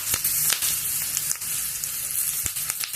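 Curry leaves sizzle in hot oil for green apple chutney, making a bright, steady crackle close by, broken by a few sharp pops and spatters, with no voices.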